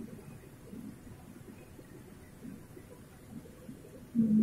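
A steady low rumble of heavy rain and strong wind in a storm on Bohol, with a muffled, rolling thunder-like roar underneath, continuous and fairly close, without voices.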